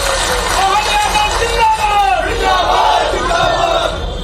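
A large crowd at an outdoor political public meeting cheers and claps, a loud dense roar of voices and applause that stays steady throughout.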